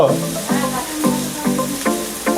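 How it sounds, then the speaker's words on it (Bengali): Onions sizzle and fry in hot oil in a pan, a steady close hiss with faint stirring scrapes in a quick repeating rhythm, no talking. "পেঁয়াজ ভাজা হচ্ছে"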